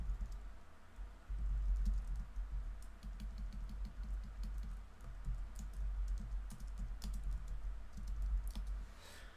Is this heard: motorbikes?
no